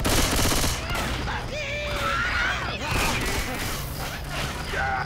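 Dense gunfire from a Left 4 Dead 2 Confogl match on Xbox 360, rapid overlapping shots and bursts packed through the whole stretch, loud and close, with game voices and effects mixed in.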